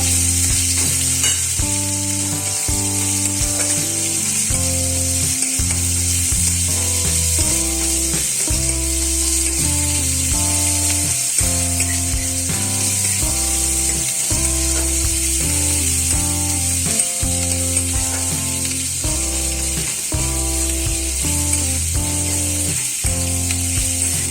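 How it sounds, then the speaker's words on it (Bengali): Chopped onions fry in oil for a chana dal dish, giving a continuous loud sizzle with occasional stirring under steady background music. "এর মধ্যে একটু পেঁয়াজ কুচে দিলাম। এটাকে একটু ভালো করে ভেজে নেব"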